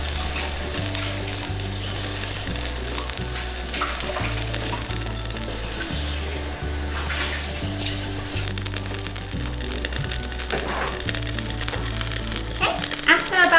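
Khmer nom krok rice batter sizzles steadily in a hot dimpled pan, a continuous crackling fry that holds for the whole stretch beneath a low, rhythmic background tone.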